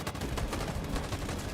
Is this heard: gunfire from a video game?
yes